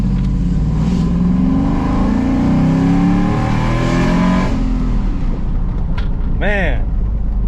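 A truck engine fitted with a new performance cam revs hard, loud throaty rises and falls with a choppy idle, close up, with a voice briefly heard near the end.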